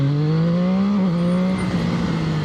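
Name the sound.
Zxmoto 820RR motorcycle engine revving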